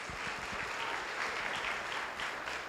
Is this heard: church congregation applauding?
yes